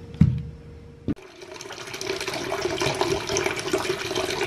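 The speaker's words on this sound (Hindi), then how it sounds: "एक डब्बे में मैंने पानी ले लिया" Water running steadily into a container for washing fresh mint leaves, preceded by a couple of sharp knocks, close and continuous with no speech.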